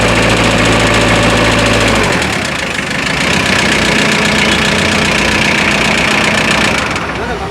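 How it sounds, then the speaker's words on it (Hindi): A VST Shakti 927 4WD tractor engine runs at a steady idle, a loud continuous mid-low rumble with knocking vibration throughout, after a brief starting shift near the beginning. "सर स्टार्ट करके थोड़ा सा इंजन की आवाज़ भी आप किसान भाइयों को सुनाएं इसकी।"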